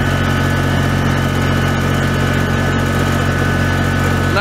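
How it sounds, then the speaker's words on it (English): Kubota BX compact tractor working under load while cutting into a pile, adjusted with a hydraulic top link: a loud, steady, droning engine hum, constant throughout with no voices. "It's loading the tractor up."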